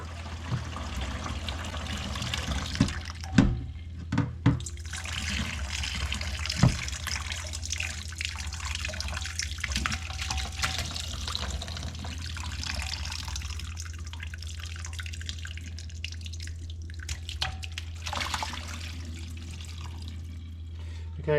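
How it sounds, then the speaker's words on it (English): Whey draining and trickling off mozzarella curds, a steady liquid dribble with occasional drips and small splashes, close by, under a low background hum. "Now what we're going to do is drain the whey off, keep the curds"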